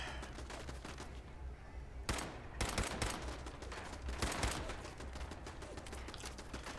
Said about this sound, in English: Shooting through this tree,